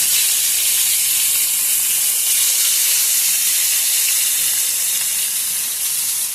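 Rohu fish pieces fry in hot oil in a kadai, making a loud, steady hiss and sizzle that holds constant throughout, with no voices.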